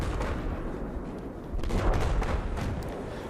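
Assault weapon and handgun gunfire in the Battlefield 4 multiplayer shooter, a steady dense barrage of shots and blasts that swells louder midway, with no talk.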